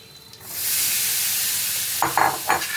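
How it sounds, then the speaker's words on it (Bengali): Mihidana stirred in ghee in a pan, giving a steady soft sizzle with a few louder scraping stirs near the end; no voices. "এর মধ্যে আমি দিয়ে দেবো মিহিদানাটা"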